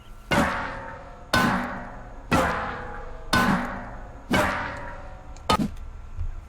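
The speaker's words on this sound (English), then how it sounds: "the sound on the barrels have changed" Barrels struck in the video game Rust, six sharp, resonant hits at roughly one-second intervals, each with a bright impact and a short metallic ring that decays before the next blow.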